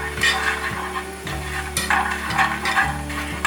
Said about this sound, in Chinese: 锅内放入一些油，盖过花生，把花生用冷油炒香。